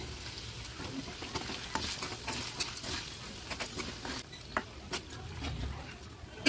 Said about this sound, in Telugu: ఇదంతా దీనికి పట్టేలా కలుపుకోవాలి